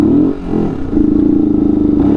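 A Yamaha R15 V2 motorcycle rides under throttle, its engine a loud, close, steady drone that dips briefly, then settles into an even pulsing note.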